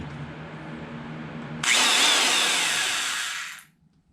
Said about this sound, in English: put an end mill on the drill, oval shaped all these 4 holes here